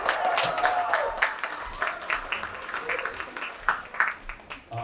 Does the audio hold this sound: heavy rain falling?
no